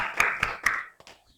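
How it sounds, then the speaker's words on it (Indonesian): A class in a microteaching lesson claps for a student group: three sharp, evenly spaced claps close by, then two softer ones as the clapping trails off within about a second and a half. "Oke, tepuk tangan buat kelompok 2."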